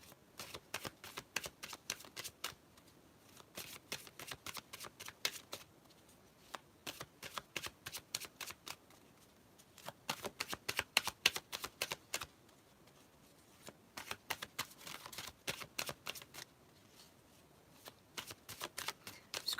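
Tarot cards being shuffled in repeated bursts of rapid riffling and flicking, close and crisp, with short pauses between rounds and no talking.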